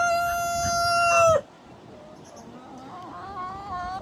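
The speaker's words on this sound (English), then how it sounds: "Roosters, I feel like they go off louder when I'm out here." Roosters crow outside: one loud, near, drawn-out crow fills the first second and a half, then a fainter, more distant crow rises and wavers afterward.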